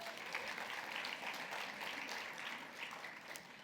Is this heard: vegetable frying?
no